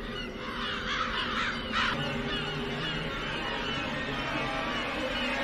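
A CGI crow from a disaster film caws in a rapid run of harsh, raspy calls near the start, fairly close, over a steady background rumble.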